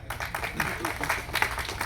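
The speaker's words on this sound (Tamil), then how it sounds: "இந்த கைத்தட்டல்கள் அனைத்தும் தமிழ்நாடு சிறு முதலீட்டு தயாரிப்பாளர் சங்க தலைவர் திரு அன்பு செல்வன் அவர்களுக்கு தான் போய் சேரும்" An audience at a stage event claps in a brief, fairly faint burst of scattered applause.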